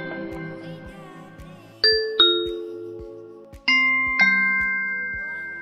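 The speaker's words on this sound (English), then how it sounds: "If you press Doorbell Sounds, you can change the sound your bell makes." A two-tone electronic Ring doorbell chime rings twice on an Amazon Echo Show 8, each ding-dong clear and close, with tones ringing out and fading over soft low pulsing underneath.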